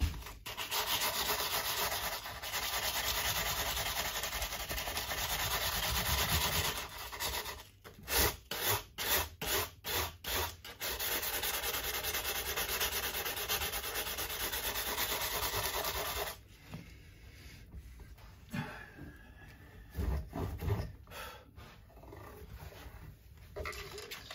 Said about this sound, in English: before I do my rest of the neck fret sanding and polishing out